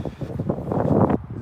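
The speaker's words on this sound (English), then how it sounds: "Can y'all hear me? It's windy." Low, buffeting wind rumbles against the microphone in uneven gusts, swelling louder toward the end before dropping off abruptly.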